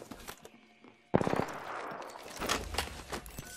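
Gunfire in the video game Apex Legends: a sudden burst of rapid shots after a quiet moment, followed by busy game effects and a few sharp cracks.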